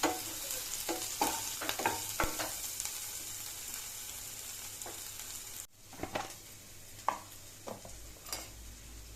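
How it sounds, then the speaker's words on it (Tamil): Crumbled paneer fries with onions in a pan for paneer bhurji. A continuous close sizzle is broken by repeated scraping stirs and soft knocks of a utensil against the pan. No speech. "அதையும் நல்லா கொஞ்சம் வறுத்துக்கணுங்க. வெங்காயத்தோட சேர்த்து அது மிக்ஸ் ஆகட்டும்"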